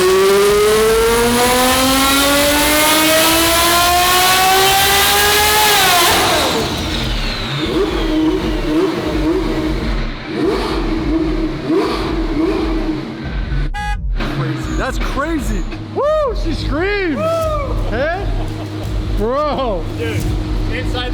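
A twin-turbo Ferrari F12 V12 on a dyno revs hard toward 8,500 RPM, its loud rising scream climbing steadily before dropping off into burbling, popping overrun and repeated sharp throttle blips that continue to the end.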